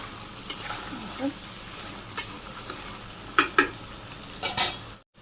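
Chicken meat being sautéed in a pot as its gravy dries down, a low steady sizzle under repeated scraping and clinking strokes of a spatula against the metal, close up, ending in sudden silence.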